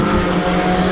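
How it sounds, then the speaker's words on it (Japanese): A mini motorcycle in a Super Battle of Mini race slides sideways through the Dunlop corner, its engine screaming loud and close in one continuous sustained roar with a sliding tyre edge. "ダンロップコーナーで横滑り状態"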